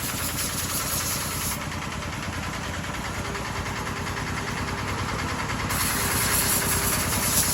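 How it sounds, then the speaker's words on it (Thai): A car engine runs after its air filter has been blown clean, holding a steady, close idling hum with a constant vibration and no breaks. "เป่าแล้วเครื่องมัน อือแบบสบายเลยครับสบายหูว"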